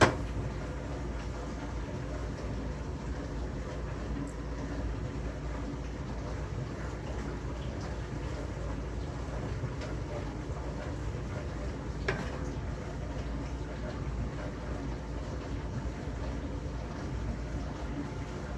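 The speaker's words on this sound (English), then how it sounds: "If you guys hear something in the background, it's my dishwasher. I'm running it" A steady low mechanical rumble and whoosh of a dishwasher churning water runs throughout nearby, with no talking over it.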